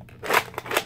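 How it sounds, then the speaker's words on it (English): A Nerf toy gun clicked to fire twice: two quick, close plastic snaps about a third of a second apart, fairly quiet, with nothing else heard. "If you want to shoot it twice,"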